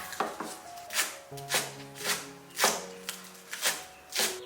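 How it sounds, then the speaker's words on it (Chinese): Scallions being chopped into fine pieces with a knife on a cutting board, a steady rhythm of about eight crisp close chops with short pauses between them, no talking. "再把葱切成葱花"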